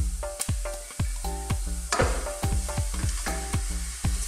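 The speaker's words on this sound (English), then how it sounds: "Now we will add our pork ribs." Pork ribs hit a hot pan for Filipino adobo sa gata, giving loud close sizzling and frying with repeated sharp clanks of a utensil against the pan in a steady rhythm.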